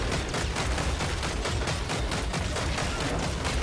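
Dense, continuous automatic gunfire in the Killing Floor 3 shooter game, a loud, rapid stream of overlapping shots that holds steady for the whole stretch, with no talk.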